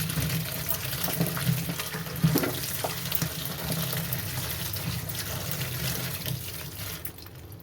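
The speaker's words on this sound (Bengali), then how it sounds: "এবার আমি লঙ্কাটাকে ভালো করে ধুয়ে নিচ্ছি।" Fresh green chillies being washed by hand under running tap water in a kitchen, a continuous splashing gush with light rustling and knocks as the chillies are rubbed, steady and close.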